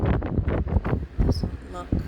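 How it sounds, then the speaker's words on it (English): Strong wind gusts buffet the microphone in rough, rumbling bursts on fog-covered Mt. Moosilauke in New Hampshire along the Appalachian Trail, loud and close. "it is crazy windy outside"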